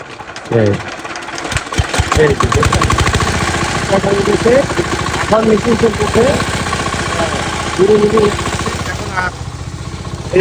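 A small engine, likely a boat motor on a fish-catching outing, starts up and runs with a steady rhythmic chug, fairly loud, while people talk over it throughout.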